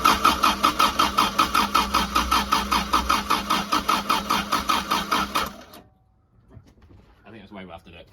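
A Toyota MK1 MR2 with a 1.6 engine cranks loudly in a steady rhythmic chug for about five seconds, then falls quiet without catching, followed by faint talk nearby.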